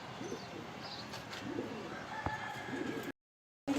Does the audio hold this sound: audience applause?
no